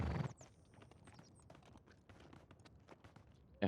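A horse walking in Red Dead Redemption 2, soft hoof clip-clops in a loose, steady rhythm, fairly faint, with a brief louder rustle at the start and end.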